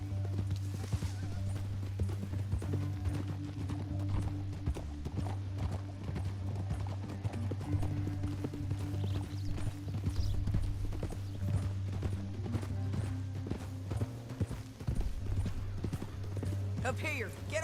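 Horse hooves clip-clop steadily in Red Dead Redemption 2 over a low droning music bed, with a voice speaking partway through.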